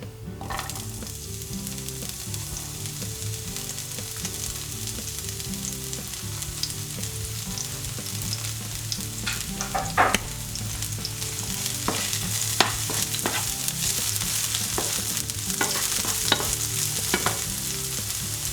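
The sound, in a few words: spring onion frying in a pan with oil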